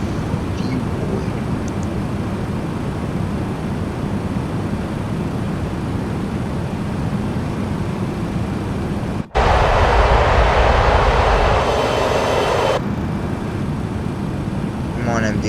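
MD-11 jet engines climbing in Microsoft Flight Simulator give a loud, steady broadband roar that cuts out for an instant, then returns brighter with a strong hiss layered on top.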